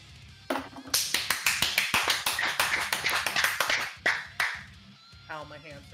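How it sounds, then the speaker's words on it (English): A round of hand clapping from one person close to the mic, a quick run of sharp claps that speeds up and then trails off, with a brief voice at the end. "So say it with a round of applause."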